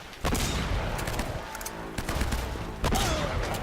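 Rapid bursts of gunfire in the action game Uncharted 1, loud and close, with sharp shots packed together and a few heavier blasts breaking through a dense, continuous barrage.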